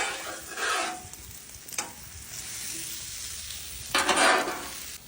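Garlic and Cajun-seasoned breakfast potatoes sizzle steadily in a pan, with a few bursts of louder scraping and tossing as they are stirred.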